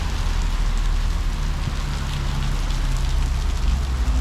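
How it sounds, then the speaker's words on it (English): Heavy rain pours steadily on a street in Taipa Village, Macau, a dense continuous hiss with a low rumble of traffic underneath, loud and unbroken throughout. "It's been raining hard."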